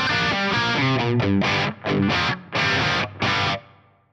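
Electric guitar through an amp with the input drive turned up by a scene controller, giving crunchier distorted riffs of single notes and chord stabs with short pauses before ringing out, loud and close.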